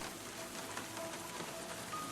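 Heavy rain falls in the Sherlock Holmes: The Case of the Silver Earring video game, a soft, steady patter on surfaces, faint and without voices.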